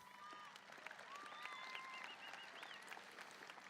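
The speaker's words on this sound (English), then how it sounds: "Let's give all of these students a round of applause." Audience applause for standing graduating students at the Centennial High School class of 2025 graduation ceremony, steady clapping across the whole stretch with faint whistles or cheers above it and no one talking.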